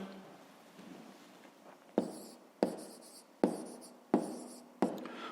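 Pen or chalk writing down a math solution, with a soft continuous scratch followed by five sharp stroke-like taps about every half second to second, close and clear, with no talking.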